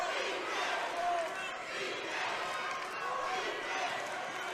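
A basketball arena crowd at a women's college SWAC championship semifinal roars and cheers steadily, a broad, sustained wall of voices with a few whistles and shouts rising above it.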